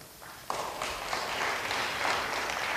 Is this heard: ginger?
no